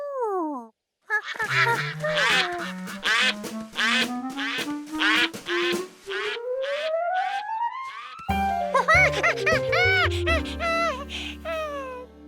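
Cartoon ducks quack in a rapid run of nasal calls in a Curious George kids' cartoon, layered over a rising sliding tone and bright musical accompaniment, loud and close with no talking.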